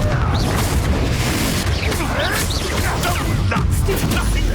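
Incendio fire spell cast in Hogwarts Legacy, a dense roaring burst of whooshing flame and crashing impacts, loud and continuous throughout with faint voice-like sweeps layered in the game mix.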